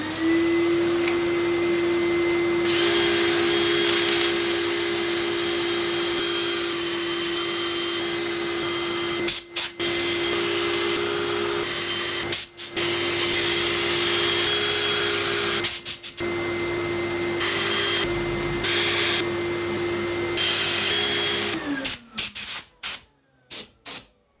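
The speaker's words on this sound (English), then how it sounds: "Right, I'll set up for sanding." A crotch elm bowl spins on a wood lathe while being sanded, giving a steady, loud motor hum with a constant whine and abrasive hiss for about twenty seconds, broken by brief pauses, before the machine winds down.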